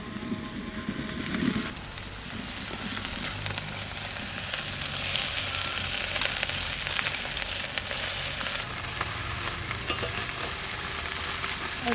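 Rai greens sizzling in a pan with boiled potatoes, a continuous loud frying hiss that swells as the leaves are stirred, with occasional scraping and no talking.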